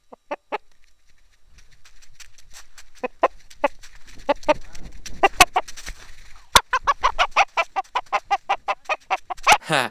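A rooster clucks in a rapid run of short, sharp calls, close by, growing denser and more rhythmic toward the end.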